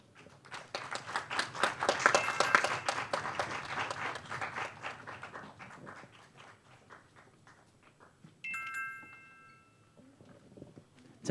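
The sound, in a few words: audience applause welcoming a team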